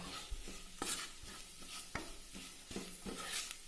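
Coriander being sautéed and stirred in a pan for soya chunks curry, giving a soft steady sizzle broken by several distinct scraping stirs of the spoon at irregular intervals, fairly quiet and close.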